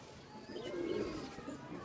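Pigeon coos softly in a short, low, rolling call, fairly faint and close, with quiet background noise.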